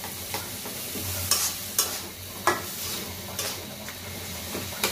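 Boiled eggplant sautéed in oil in a pan, with a steady low sizzle broken by repeated close scrapes and clinks of a utensil as it is stirred, and no one speaking.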